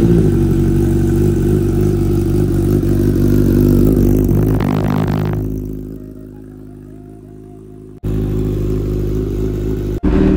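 A motorcycle engine cold-starts after sitting two days and idles steadily as it warms up, a loud continuous rumble that drops in level midway and then carries on, with a brief cut near the end.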